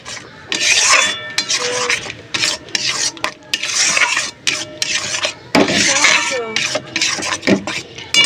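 Poppy seed paste with a little water being stir-fried and scraped around a pan, giving steady rasping, scraping strokes in close repeated bursts with brief pauses, and faint voice in the background.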